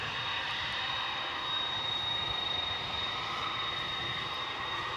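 An airplane at DFW Airport at night gives a steady, broad engine roar with a thin high whine over it, holding constant throughout.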